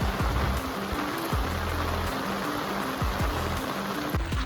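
Steady rain pattering on a surface in the Konkan region during crab catching, a dense continuous hiss of drops, with some low rumbling thuds underneath.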